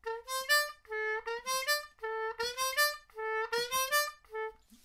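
A harmonica plays a short Game of Thrones fill with bent draw notes, four quick phrases played up close and clear with no talking.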